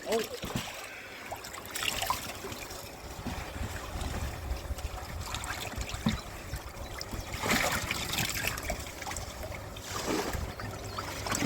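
Fresh water trickling and splashing into a koi tank during a koi grading session, a continuous pouring wash with occasional knocks and splashes, under people talking.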